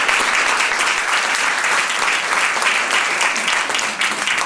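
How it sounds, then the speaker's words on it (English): An audience applauds steadily for three presenting groups at a community share night, a dense, continuous clapping that holds at a loud, even level throughout. "One more round of applause for the three groups."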